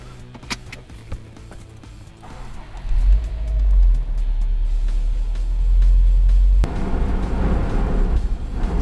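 A 2018 Subaru WRX STI Type RA driving slowly toward pit lane, heard from inside: a few clicks and rustles, then a low engine rumble that swells as the car pulls away and stays loud and steady.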